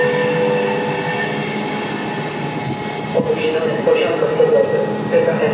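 A passenger train from Berlin to Gdynia pulls into a station along the platform, a steady heavy rolling rumble with rising metallic squeals and clanks near the end, while a station announcement plays over it.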